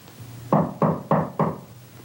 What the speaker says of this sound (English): See who's at the door, please.